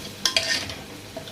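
Garlic frying in oil in a pot as it is stirred, a couple of sharp scraping clicks from the utensil over a soft, continuous sizzle, close by.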